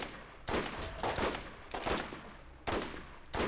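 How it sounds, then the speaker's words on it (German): Several bursts of rapid gunfire from the video game Borderlands crackle out at irregular intervals, each loud and sharp, with brief quieter gaps between the volleys. "Ich schieße schon die ganze Zeit auf ihn."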